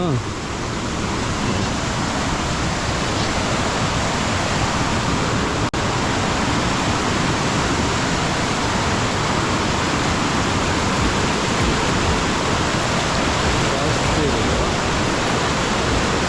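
A small waterfall near Sakleshpura pours down from above in a steady, dense rush of white water that stays close and even throughout.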